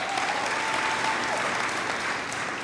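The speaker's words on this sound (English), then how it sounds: "So amazing round of applause for Brooke and Selena." A crowd claps steadily at a Title IX 50th anniversary celebration, applauding two high school student athletes. The clapping is fairly distant and even, with a faint tonal hum underneath and no talking.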